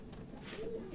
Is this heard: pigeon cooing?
yes